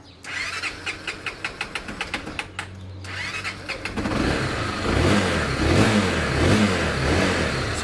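A Honda CB 300 motorcycle engine cranks with a rapid string of starter pulses, briefly catches, cranks again, then fires and settles into a loud, rough, revving idle close by.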